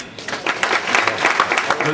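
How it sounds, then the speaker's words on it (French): Guests at a cycling club dinner applaud a rider, a short burst of clapping mixed with voices talking in the room. "on peut l'applaudir"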